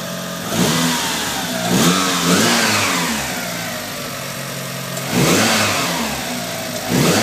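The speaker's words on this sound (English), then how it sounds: "Give it a few revs." A car engine revs up repeatedly over an idle, with about three rising surges of throttle at steady intervals, close and loud with no talking.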